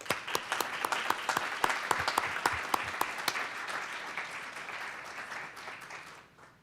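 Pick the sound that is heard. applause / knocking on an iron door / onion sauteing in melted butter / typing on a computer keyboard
applause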